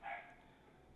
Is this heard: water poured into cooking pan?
no